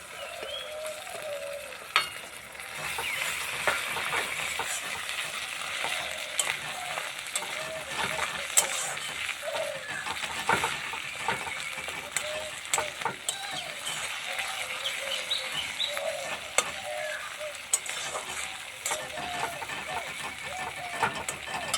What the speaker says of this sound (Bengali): পেঁয়াজের সঙ্গে মশলাগুলোকে ভেজে নিলাম